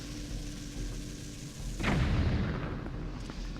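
Bomb arrows exploding in the video game The Legend of Zelda: Twilight Princess HD, a heavy booming blast that hits midway through and rumbles on over steady game background sound, with no talking.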